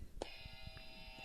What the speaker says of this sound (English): I would like to hear your buzzer.